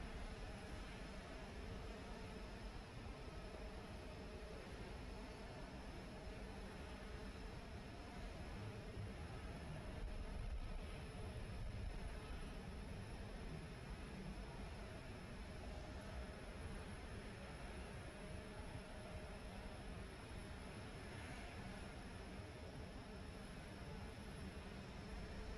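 A Jetstar Airbus A321neo airliner lands at Perth Airport, heard as a steady, distant broadband engine roar and rumble that holds level throughout with no voices.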